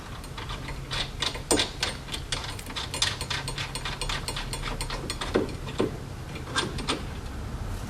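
A socket wrench tightens the strut bar nuts on a Toyota Camry, giving rapid, repeated ratcheting clicks in uneven bursts, close and fairly clear over a low background hum.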